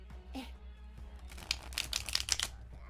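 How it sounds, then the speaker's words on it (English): A deck of playing cards being shuffled, with a soft riffle early on and then a busier run of crisp, close flicks and snaps toward the end, all fairly quiet with no talk. "Oh, that was a good shuffle."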